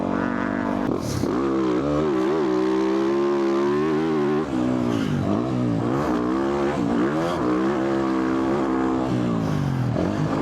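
Race car engine at Aztec track drives out of a corner, revving steadily loud and close with pitch rising and dipping as it accelerates, no talk over it.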